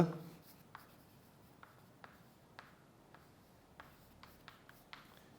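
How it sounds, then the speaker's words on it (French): Pen or chalk writing by hand during a lesson on metamorphic rocks, heard as faint, scattered short scratching strokes spaced irregularly over a quiet background with no talk. "Donc, on va écrire le gneiss"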